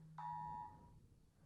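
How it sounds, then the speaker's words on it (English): A phone alarm gives a single short electronic beep, clear but fairly quiet, that fades quickly into a near-silent room. "Sorry, that was my alarm for my sandwich time."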